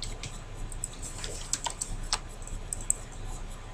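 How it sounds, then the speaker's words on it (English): Fingers tap a computer keyboard while numbers are entered into a spreadsheet cell, a quiet scatter of soft clicking keystrokes in uneven rhythm against low room hum, with no talking. "So type 6 in cell C13."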